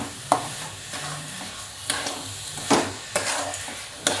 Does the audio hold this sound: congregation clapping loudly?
no